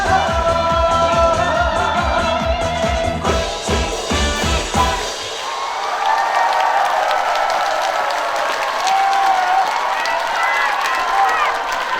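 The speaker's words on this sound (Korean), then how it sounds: "박수 쳐주셔서 진심으로 감사드리도록 하겠습니다." Audience at a live concert applauding after a song; the band's music plays first, then gives way to a steady wash of clapping and cheering that continues to the end.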